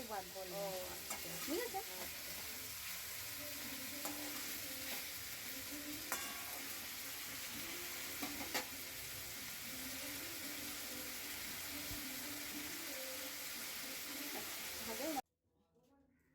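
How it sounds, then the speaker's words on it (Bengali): Vegetables frying with bay leaf and a little salt in a pan, a steady sizzle with occasional stirring scrapes running throughout before cutting off near the end; a voice speaks faintly in the background. "এই যে তেজপাতা দিয়ে দিয়েছি। ভালো করে ভেজে নিই।"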